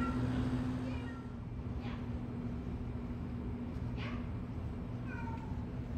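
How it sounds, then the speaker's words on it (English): Two cats trade meows at night, a few thin, rising calls scattered over a steady low hum of background noise. "I thought it was the new cat meowing, which it was."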